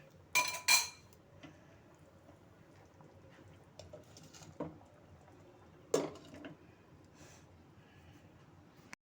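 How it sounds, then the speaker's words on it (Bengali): A metal lid set down on a cooking pot of potatoes simmering over medium heat, heard as a few sharp clinks and knocks spread across a quiet kitchen, with two louder clatters near the start and middle. "এখন আমি আঁচটাকে মিডিয়ামে রেখে আমি ঢাকনা দিয়ে দিচ্ছি"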